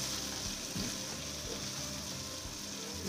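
Amla pickle mixture cooks in a pan with a steady, soft sizzle and faint bubbling, and occasional stirring scrapes sound close and even throughout.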